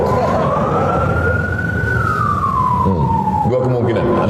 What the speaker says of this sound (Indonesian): Bukan pakai ambulan, pakai sirine.